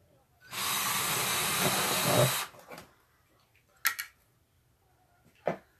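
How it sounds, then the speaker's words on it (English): A power drill whirs steadily for about two seconds boring into thin wood, then stops, followed by a few short clicks and bumps nearby. "I am drilling on the front, which this is such thin wood"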